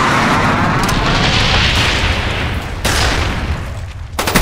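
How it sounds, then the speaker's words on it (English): Napalm strike explosions in Call of Duty Black Ops, a dense continuous roar of fiery blasts and booms that stays loud throughout, with a few sharper bursts near the end. "Napalm strike coming in."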